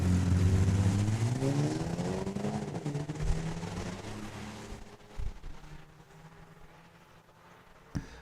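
A Hyundai Kona race car at Saskatchewan International Raceway roars past the finish line in a loud, rising then falling drive-by, fading into distant engine noise with a brief clunk near the end.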